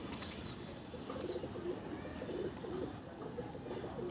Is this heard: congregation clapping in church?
no